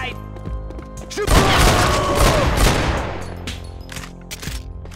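Dense gunfire from the video game Max Payne 2: The Fall of Max Payne, with bursts of rapid shots and heavy booms swelling into a loud crashing volley, then scattered single shots trailing off.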